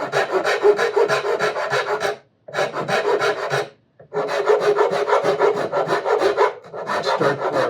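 Curved rasp carving the wood of a steel string guitar neck: steady, loud rhythmic rasping strokes in three long bursts, separated by two brief pauses.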